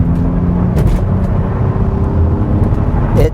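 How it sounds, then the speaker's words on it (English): A Bentley Continental GT with a twin-turbo W12 pulls onto a highway at part throttle, giving a loud, steady low engine rumble with road and wind noise inside the cabin. "Just part throttle. I'm merging onto the highway here."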